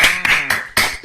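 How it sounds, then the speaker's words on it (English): A few people clap for a performer at an online open mic, a brief, close burst of sharp, distinct claps landing in uneven bursts rather than a full crowd's applause. "Give her a nice round of applause."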